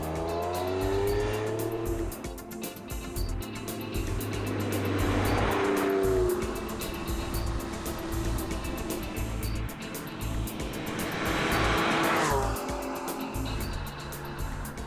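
A Porsche 911 Sport Classic drives past at speed with engine roar and tire noise, its sound swelling twice as the car passes close.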